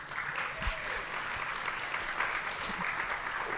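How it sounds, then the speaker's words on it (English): Steady applause from an audience of over a hundred professionals at an annual meeting's welcome address, a dense continuous patter of clapping with a few louder thumps, no voices over it. "Round of applause."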